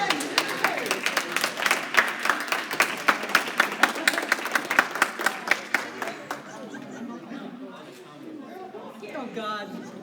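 Audience applause for Catherine at a school assembly, a burst of clapping with scattered cheers and chatter that fades after about six seconds into murmuring crowd talk.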